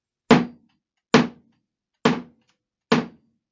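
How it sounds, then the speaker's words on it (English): Four heavy thuds of a hammer striking, evenly spaced about a second apart, each a short dull knock with a quick decay, alone in silence. "You may recognize that sound as the sound of the thud of a hammer."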